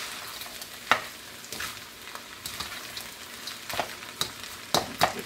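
Diced onion frying in a pan for fried rice and sauteed veggies, a soft steady sizzle broken by several sharp clicks and clatters of stirring, close by.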